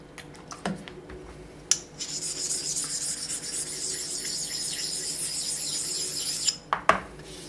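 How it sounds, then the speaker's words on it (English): A diamond-ground aluminum oxide stone rubbed across the back of a Vertex rotary table, a close, continuous gritty rasping scrape lasting several seconds, framed by a few sharp clicks and knocks of metal handling. "stoning the back of the rotary table before we go to the surface plate"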